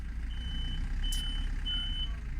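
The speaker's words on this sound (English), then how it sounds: "this annoying camping car is just making a lot of noise" A camping car parked near a grassy roadside spot between Novi Ligure and Pavia, Italy, sounds a repeated high reversing beep, a few evenly spaced tones over a low, steady engine rumble nearby.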